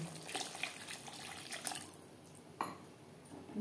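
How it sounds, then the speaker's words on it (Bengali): Water poured into tomato-based curry masala simmering in a pan for a Bengali catla fish curry, a soft, steady liquid stream with a couple of brief splashes, heard alone at low level. "এই পর্যায়ে দিয়ে দেবো জল।"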